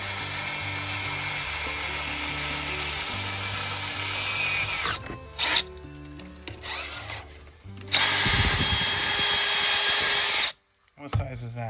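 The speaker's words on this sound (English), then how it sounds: "let's get this drill through" Power drill boring through during a tonneau cover install on a 2021 Ford F350, a loud whirring run that halts, restarts in short bursts and cuts out near the end, with brief pauses between.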